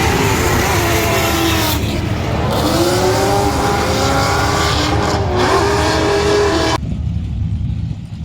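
A V8 drift car at a track drift competition screams loud and close, its engine bouncing repeatedly off the rev limiter in a harsh, stuttering wail before cutting off abruptly near the end.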